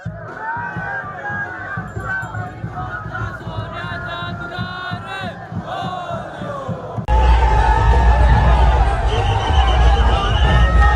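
A crowd of devotees at a Shimga palkhi procession in Ratnagiri cheers and shouts together, a dense chorus of voices that jumps to a louder, fuller roar with heavy low rumble partway through.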